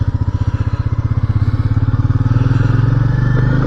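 A motorbike engine pulses loudly and rhythmically up close from a helmet chin-mounted camera, the throbbing beat quickening and rising slightly as the bike gathers speed, with rumbling road and wind noise beneath.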